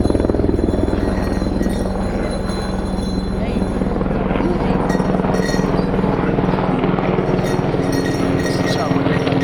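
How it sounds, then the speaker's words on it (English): A helicopter passes overhead outdoors at an event, its steady loud rotor drone filling the whole span with dense low rumble and no pauses. "Wait till the chopper go"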